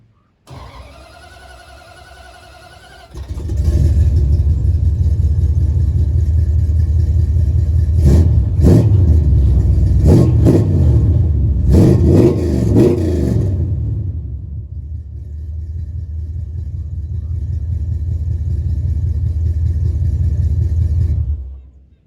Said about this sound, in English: I'll do one more rev for you guys.